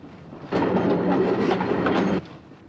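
A train rumbles along its rails in a Western film scene, a loud steady rolling roar with faint clickety-clack that rises abruptly, holds for under two seconds, then cuts back to quiet.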